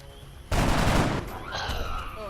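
A single loud gunshot in XCOM: Long War, a sharp broadband blast that rings out for most of a second before fading into ambient game sound.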